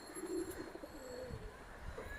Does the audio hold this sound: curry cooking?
no